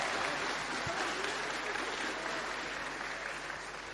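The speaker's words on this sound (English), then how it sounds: "A wonderful round of applause for them once more." Dense audience applause at a closing ceremony, steady and full, filling the whole stretch with no one speaking.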